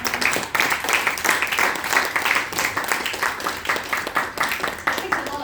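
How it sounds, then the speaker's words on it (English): An audience claps for a speaker at a BSC meeting in a room, a steady wash of sustained applause from many hands filling the space for several seconds without pause. "Can we clap for every time?"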